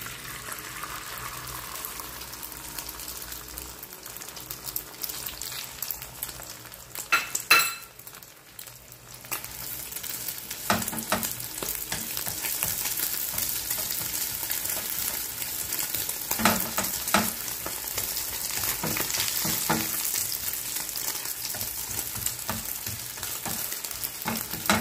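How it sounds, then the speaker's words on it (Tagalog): An egg sizzles steadily in hot cooking oil in a pan, a continuous close crackle with a few brief clinks of a utensil and no talking. "Prito natin ang isang pirasong itlog."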